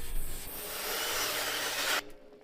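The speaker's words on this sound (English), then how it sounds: "A small drill with a brush so we don't have to work too hard" A small drill spinning a brush scrubs cleaner into a car's interior carpet, a steady close rasping whir for about two seconds that cuts off abruptly.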